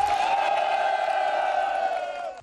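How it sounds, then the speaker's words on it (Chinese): An audience at a military camp variety show, made up of border troops, gives a loud, sustained cheer and shout that holds steady and then fades at the end. "让我们掌声欢迎他。"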